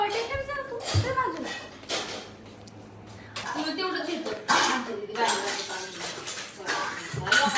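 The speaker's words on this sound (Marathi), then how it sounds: "भांडी" Dishes, pots and pans clatter and clink close by in irregular bursts, with metal cutlery rattling, while people talk over the noise.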